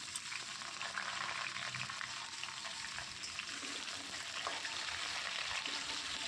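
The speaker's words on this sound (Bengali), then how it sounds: "এবার আমি এই তেলের মধ্যে আলুগুলো সব দিয়ে দেব। এইভাবে সব আলুগুলো দিয়ে আমি কিছু সময় ভেজে নেব।" Potatoes frying in hot oil in a pan, a steady soft crackling sizzle heard close up and continuing evenly throughout, with no talking.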